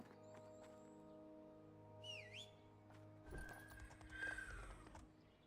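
A horse in the video game Fellowship gives a high, wavering whinny near the middle, amid steady in-game ambient tones, a few faint clip-clop thuds and a brighter chime burst toward the end.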